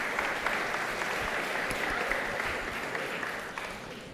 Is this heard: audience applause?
yes